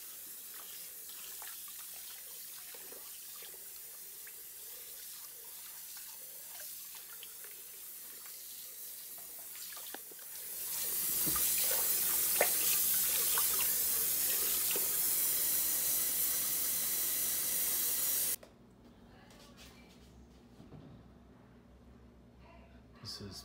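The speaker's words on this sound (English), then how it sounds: "So we're gonna rinse this one down. Cold water." Cold tap water runs into a sink while ham is rinsed, a steady hiss that grows louder and brighter midway, then cuts off near the end, leaving quiet room sound.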